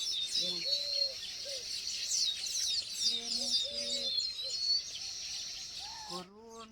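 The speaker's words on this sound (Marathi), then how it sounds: "पक्ष्यांची एवढी किलकिलाट सुरू झाली ना येत ना तर बघा तुम्हाला ऐकायला येतच असेल" Several birds, including sparrows, chirp and twitter together in a busy high-pitched chorus around their nests, with a few lower cooing calls mixed in nearby.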